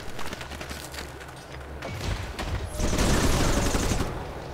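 Attack jets firing in the strategy game Civilization: Beyond Earth, a dense rattling volley of rapid gunfire that builds into a louder, fuller burst toward the end.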